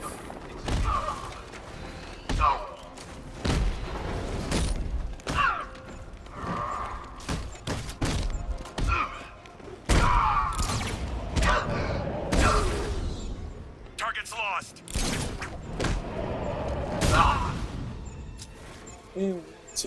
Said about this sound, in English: that one cannon did indeed try to fire at us, so it blew up